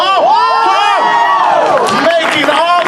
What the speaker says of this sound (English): Never had so many people cheer for that.